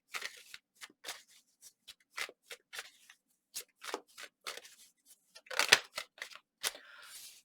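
Tarot cards shuffled and drawn by hand at close range, with a run of quick, dry rustles and flicks in irregular bursts, and one louder riffle near the end.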